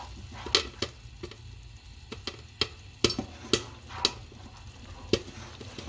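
Caramel for caramel popcorn with peanuts heating in a pan as it comes to the boil, giving off a low steady bubbling hiss broken by scattered sharp pops and ticks at irregular intervals, close and fairly quiet with no voices.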